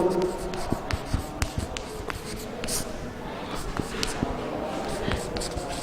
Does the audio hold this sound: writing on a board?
yes